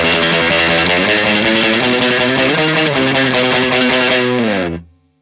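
Distorted electric guitar plays dry, sustained chords that shift in pitch, loud and close, ending abruptly with a quick fade.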